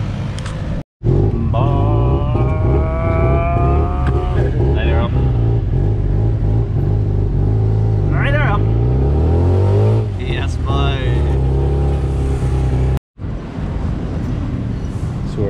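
A tuk-tuk engine buzzes and revs while the vehicle rolls through Old Town Bangkok, loud and close throughout, with people talking over it and two brief dropouts.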